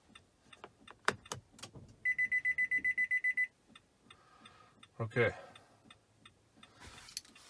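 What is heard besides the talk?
2015 Nissan Pathfinder beeping during key programming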